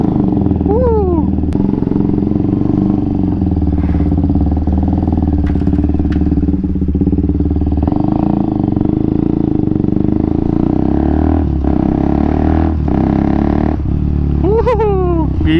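A motorcycle fitted with a newly changed open exhaust runs loud and steady nearby, a deep raw drone with occasional revs and gear changes, while a rider's voice is faintly mixed in.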